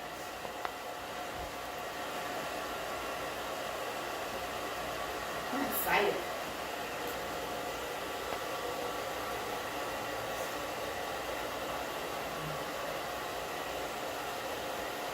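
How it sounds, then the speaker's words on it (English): A blow dryer runs steadily on Mod Podge coasters, a constant close whoosh throughout with a brief louder moment midway and a few quiet spoken words. "we're just going to use our blow dryer and dry it up"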